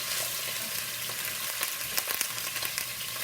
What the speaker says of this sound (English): I put this in here first in my pot and get this browned off real good